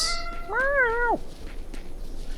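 A cat meows once in the video game Tales of Berseria, a clear, rising-then-falling tonal cry lasting about half a second, close and fairly loud over faint background game ambience.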